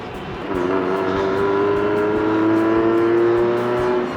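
A Hoverfly Ourea e-bike speeding up on its push-button throttle, a steady rising motor whine with road and wind noise, fairly loud and continuous with no talking.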